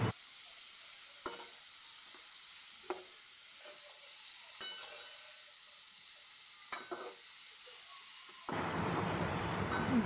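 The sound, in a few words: chopped spiny gourd (kakrol) frying and being stirred in pan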